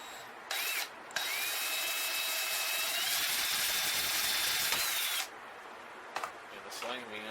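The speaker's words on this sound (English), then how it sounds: "I'm going to go ahead and drill 2 holes in it, just in case." A power drill boring two holes into PVC pipe, a whining high-pitched motor running steadily for several seconds in two bursts, close and loud, with faint talk in the background.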